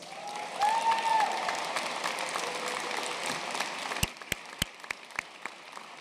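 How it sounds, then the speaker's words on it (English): Applause from the audience at a medical school commencement ceremony for the graduating class, a steady crowd roar that thins out into a few loud, separate claps near the end. "Will you please join me in a round of applause for all of these students?"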